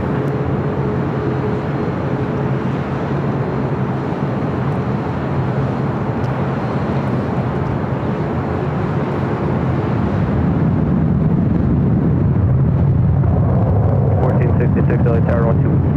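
Airliner taking off from runway 24 right at LAX, a broad steady jet roar that swells louder near the end, with air traffic control radio talk heard over it.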